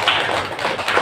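Schoolchildren in a classroom clapping their hands together, a short burst of several quick, sharp claps in a ragged group rhythm, close and moderately loud.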